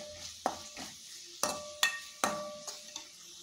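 Tomato masala with turmeric and garam masala sautéed in a pan: a quiet bed of sizzle broken by a handful of sharp spatula knocks and scrapes at uneven intervals.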